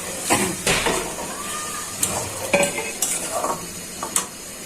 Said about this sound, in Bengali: এখন দিয়ে দিচ্ছি ভেজে রাখছি ডিমগুলো।